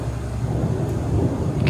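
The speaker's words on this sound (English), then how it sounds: "And there's a big storm moving in." Distant thunder from a storm moving in over a steep hillside driveway in Costa Rica, a low, continuous rumble that swells slightly toward the end.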